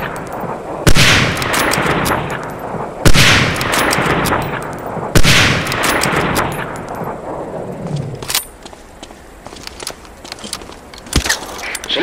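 Springfield 03 sniper rifle fired in Medal of Honor Allied Assault at a North Africa training range, three loud, evenly spaced cracks with long echoing tails, then quieter clicks and handling noises.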